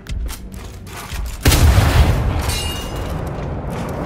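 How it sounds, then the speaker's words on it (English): A bomb detonates in the Gears 5 video game, a sudden loud boom at about 1.5 seconds that swells into a sustained rumbling roar after a quieter stretch of ambience. "The bomb's about to blow."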